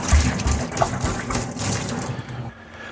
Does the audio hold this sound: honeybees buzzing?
no